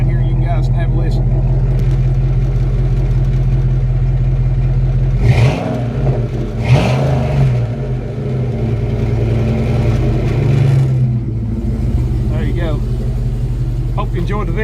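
Engine of a 1959 International B100 truck running steadily up close, a constant low rumble with a couple of brief revs midway.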